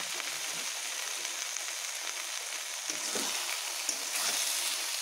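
Spinach already cooked down with spices, with fried vegetables added, is stirred together in a pan. A steady, moderately faint sizzle runs throughout, with a few soft scraping strokes partway through.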